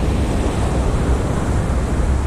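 Steady onshore wind buffets the microphone on an open beach, a dense continuous roar mixed with surf wash, loud and unbroken with no voices.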